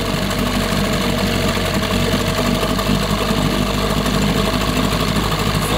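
A 1988 6hp Johnson Evinrude outboard motor idles steadily with a dense, even putter and rattle, loud and close, running alone with no talk over it.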